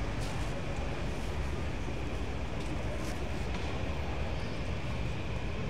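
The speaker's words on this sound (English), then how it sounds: "Maybe we'll see the Sobu line go by, that yellow line, train." Yellow Sobu line train passing through Tokyo near Akihabara, a steady loud rumble and rush of wheels over the rails that holds the full length, with faint street noise mixed in.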